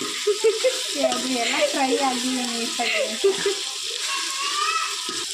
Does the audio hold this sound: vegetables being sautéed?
yes